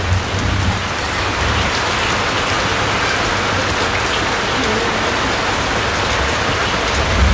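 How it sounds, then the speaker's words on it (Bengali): Heavy rain that has been falling for about two hours in a village, a loud, dense, unbroken roar of drops on surfaces with no voices. "তো প্রচুর পরিমাণে বৃষ্টি হইতেছে বৃষ্টি বানছে দুই ঘন্টা যাবত"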